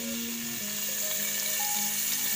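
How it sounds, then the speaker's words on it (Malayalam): Elephant foot yam pieces sauté in hot oil for Onam aviyal, a dense steady sizzle filling the whole moment, loud and close with no speech. "അപ്പൊ ഈ എണ്ണയിലോട്ട് നമ്മുടെ ചേന ഇട്ട് കൊടുക്കാം. ആ ചേന ഒന്ന് വഴറ്റിയിട്ട് നമുക്കൊന്ന് വേവിച്ചെടുക്കാം."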